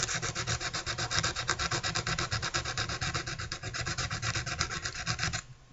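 Rust is buffed off an antique Christopher Johnson wedge, giving a loud, steady rhythmic rubbing rasp, stroke after stroke, close to the mic, until it stops abruptly near the end.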